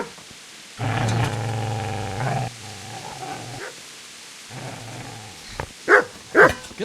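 Dog growling and barking in Kingdom Come: Deliverance, with long low snarling growls followed by two sharp, loud barks near the end.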